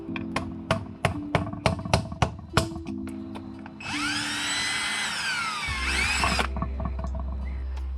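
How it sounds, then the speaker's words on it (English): A small hole is drilled into a gearbox detent cap: a run of sharp taps and clicks, then a loud, steady whining drill for about three seconds that winds down into a low hum. "All right, got a little hole drilled in there."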